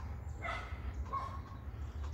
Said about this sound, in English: My dog is barking her head off.